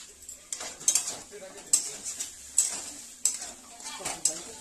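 Potato and eggplant frying in leftover fish oil in a pan for a Bengali chorchori, with repeated metallic scraping and stirring clinks over a soft sizzle, close and fairly loud.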